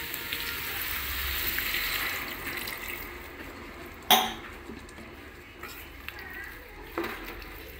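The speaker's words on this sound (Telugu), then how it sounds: "ఇప్పుడు కాస్త వాటర్ అనేది యాడ్ చేద్దాము." Water goes into a pot of curry simmering in oil, giving a hissing sizzle and splash that fades, then a sharp metallic clank of pot or utensil and a smaller knock near the end.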